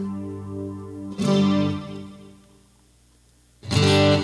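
Two loud strums on a Donner Hush I Pro travel electric guitar with shimmering chorus, delay and reverb, each ringing out and decaying into a washy echo tail; the second strum arrives after a pause.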